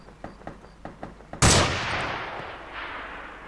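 A single loud gunshot blast in the video game Arma 2 rings out with a long decaying echo, preceded by several faint, evenly spaced clicks or distant shots.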